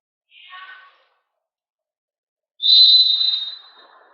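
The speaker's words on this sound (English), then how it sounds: "There's the whistle." A referee's whistle gives one sharp, fairly loud blast to start the fourth quarter of a youth water polo game between Gig Harbor and Roosevelt, after a fainter short tone and a silent pause.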